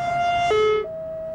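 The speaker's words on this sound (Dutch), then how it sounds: "ambulancewagens met sirene" An ambulance siren sounds loud and close as a steady two-tone wail, stepping from one pitch to a lower one and back up within about a second, with no voices.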